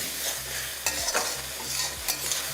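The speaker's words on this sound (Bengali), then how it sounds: "বেশ, এবার এই সব কিছুকে একবার ভালো করে আবারও কষিয়ে নিন।" Tomato, ginger and green chili sauté in a pan over high flame: a bright sizzle under repeated scraping strokes of a spatula, several sharp clinks against the pan and a low background hum, with no talking.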